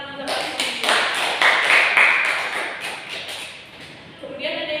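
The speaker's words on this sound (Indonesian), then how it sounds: "Dari tepuk tangan untuk Rosi." Students in a classroom clap in a fairly close, loose rhythm for several seconds, the claps swelling then tapering off while a voice talks over part of it.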